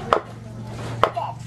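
Two sharp knife chops on a cutting board as duck offal is prepared in a cramped home kitchen, spaced about a second apart over a low steady hum, with no talking.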